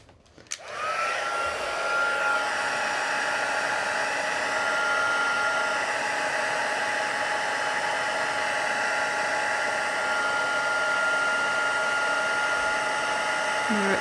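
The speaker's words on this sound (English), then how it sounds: "And I do have the heat tool out." A heat tool switches on and blows hot air in a loud, steady, continuous whoosh with a faint whine, running close and unbroken for the whole stretch.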